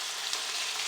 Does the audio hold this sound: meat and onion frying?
yes